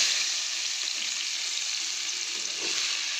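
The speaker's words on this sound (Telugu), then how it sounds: "ఇప్పుడు ఉల్లిపాయలు వేసుకుందాం." Continuous close sizzle and crackle of sliced onions frying in hot oil, a steady hiss with faint stirring underneath and no talk.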